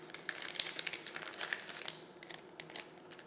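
Paper cardstock kit pieces for a birthday party favor crinkle and rustle as they are pulled out and handled, giving a quiet run of irregular crisp crackles and light taps.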